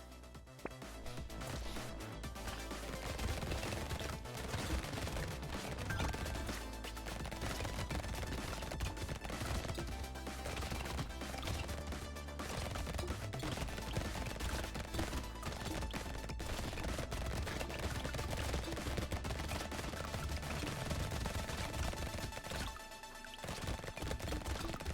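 Rapid, continuous SMG fire in the game Brotato, dense overlapping shots and hits over game music, sustained for most of the stretch before briefly dropping off near the end.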